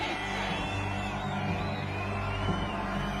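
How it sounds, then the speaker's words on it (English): A cartoon crowd cheers and whoops at a boxing match. The roar is distant and continuous beneath a steady murmur and occasional shouts. "it sounds like the audience is starting to cheer for the American"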